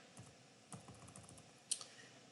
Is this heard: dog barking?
no